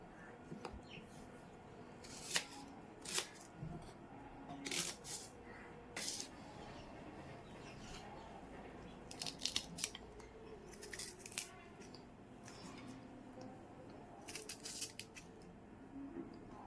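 Vegetables such as capsicum and potato are chopped into small pieces, giving quiet, irregular crisp cutting taps and knife strokes close by, with no talk.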